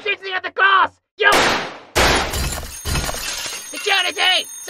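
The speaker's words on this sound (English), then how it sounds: "Stop shooting at the glass!" Glass shatters in a sudden loud burst with gunshots in an undead-husband horror roleplay, a sharp crash followed by a sustained crunching spray of breaking glass, with a voice talking before and after.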